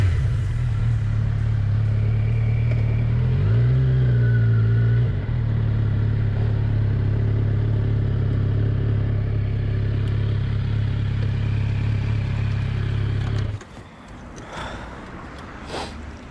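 Kawasaki Z900 four-cylinder motorcycle engine while riding, a loud steady low drone with a brief pitch swell from revving, then cutting to wind and road noise near the end.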